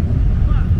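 A car engine revs at a Denver car meet, a heavy low rumble held steady through a brief moment, with people talking nearby.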